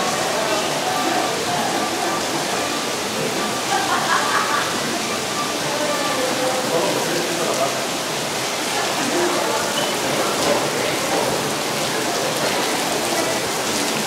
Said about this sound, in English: Hoping this is one of those short bursts of rain that lasts like 10 minutes.